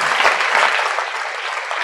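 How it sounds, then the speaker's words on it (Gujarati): Audience applause at a Swaminarayan religious discourse, a steady wash of many hands clapping together throughout, fairly loud and continuous with no voices over it. "તાળી તો પાડો"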